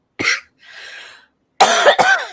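A person coughs in short bursts: one sharp cough, a breathy pause, then two harsher coughs close together, all near and fairly loud with no talk.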